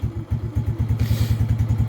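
A Lifan King motorbike engine fires back up after cutting out when cold, settling into a loud, close, steady thumping idle with a brief burst of hiss partway through.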